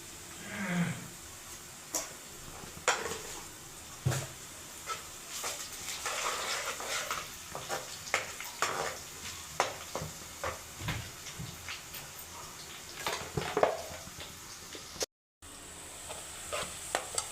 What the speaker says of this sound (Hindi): और मैं तेल में डालूंगी मैं ज़ीरा